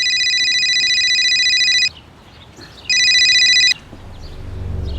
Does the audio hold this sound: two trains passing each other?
no